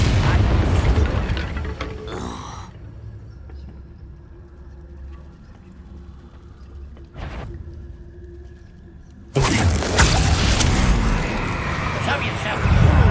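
Bombarda spell explosions in Hogwarts Legacy gameplay, loud booming blasts with roaring noise at the start and near the end, separated by quieter ambience and a sharp burst, with talk in between.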